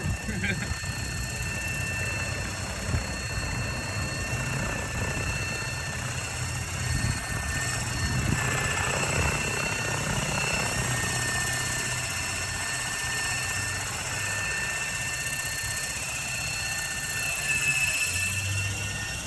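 A model helicopter on a test flight drones with a steady whirring rotor and high motor whine, sustained and fairly close, while people talk over it.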